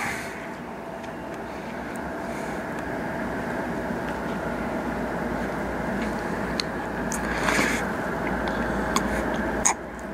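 CN 149 intermodal freight train led by locomotives CN 3876 and CN 2825 rolls past on the Strathroy Subdivision, a steady rumble of wheels with a low engine hum and occasional clanks and squeals from the cars.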